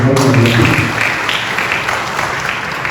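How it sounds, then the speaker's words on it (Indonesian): A church congregation at a Pentecostal service bursts into applause, dense clapping from many people rising quickly and holding steady, loud and reverberant throughout. "Berikan tepuk tangan."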